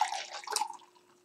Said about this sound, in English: excuse me while I pour myself a drink